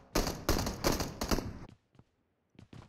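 A double barrel shotgun in the BGMI mobile shooter fires a quick run of loud, close blasts, followed by near silence broken only by a few faint clicks.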